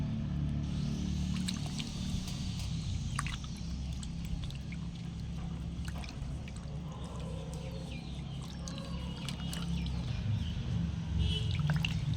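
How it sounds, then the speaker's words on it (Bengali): Tomatoes being washed by hand in a bowl of water, with steady sloshing, splashing and dripping close by, occasional sharper splashes and a low continuous background rumble. "বন্ধুরা, টমেটোগুলো কিন্তু আমি ভালো করে ধুয়ে নিচ্ছি"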